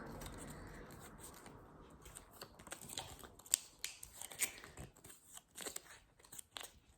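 Scissors snipping and crunching through a craft costume shape, a long, irregular series of close, quiet cuts with faint rustling.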